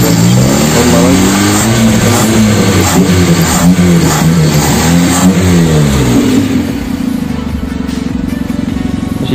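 A Toyota Starlet's petrol engine, recently overheated and now carbureted and running again, idles loudly up close and revs repeatedly in rising and falling surges before settling back to a steady idle.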